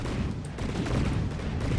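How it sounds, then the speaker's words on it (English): Cannon fire from naval battles in the game From the Depths, a dense, continuous barrage of booming shots rolling over one another at close range with no gaps, loud and steady throughout. "I kind of like the sound of these cannons."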